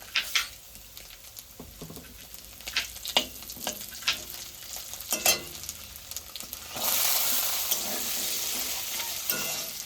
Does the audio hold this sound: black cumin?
yes